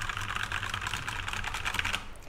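Rapid clicky keystrokes rattle on a new Corsair keyboard, a dense, even stream of close key presses with no talking.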